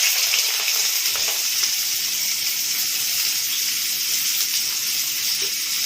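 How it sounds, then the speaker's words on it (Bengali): Chopped onions fry in hot white oil in a wok, giving a steady, close, bright sizzle that holds evenly throughout with no talking. "পেঁয়াজ একটু ভালো করে তেলে ভেজে নেব।"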